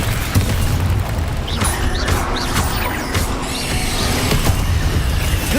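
Incendio fire spell in the Hogwarts Legacy video game, heard within steady combat noise: crackling bursts, crashes and thuds rolling on continuously at a loud level, with no voices.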